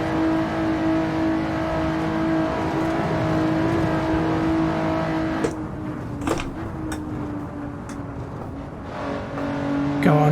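A Lotus Exige S driven hard on street tyres around the Nordschleife in Assetto Corsa, its engine droning at high revs, then shifting and dropping before climbing again, steady and close with tyre and road noise.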